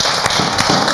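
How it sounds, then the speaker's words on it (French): A live audience applauds Fadima on a café-style talk show, with a loud burst of overlapping claps and a few sharp, distinct hand slaps standing out in a brief one-second round. "Alors, on va applaudir Fadima."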